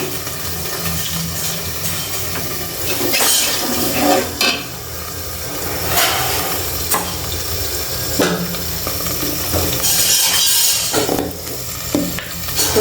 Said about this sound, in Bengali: তো এদিক দিয়ে একটু পানি দিয়ে দিলাম।